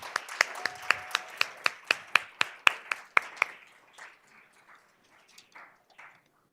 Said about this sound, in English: Can we give our students another round of applause?